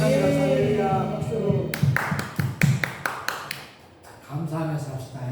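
Church congregation clapping in steady rhythmic bursts during a Sunday worship service, breaking in after a man's spoken prayer and fading as his voice returns.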